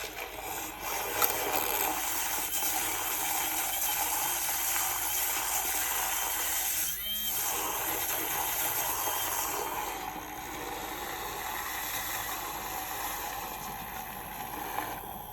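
A battery-powered handheld mixer whips Niislel coffee with a continuous high, hissing whir that stays steady and close, shifting briefly near the middle.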